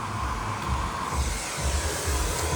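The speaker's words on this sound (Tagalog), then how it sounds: "blower pala ni Mati yun" A hair dryer runs steadily indoors, a constant loud whooshing blow with no pauses throughout.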